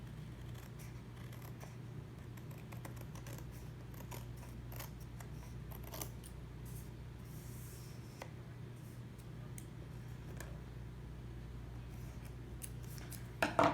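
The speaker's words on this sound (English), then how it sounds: "So I'm going to go ahead and cut that because you know, you want everything to look nice and finished." Scissors snip excess paper from scrapbook pocket pages: scattered short crisp cuts and clicks at close range over a quiet room, with a few sharper handling noises near the end.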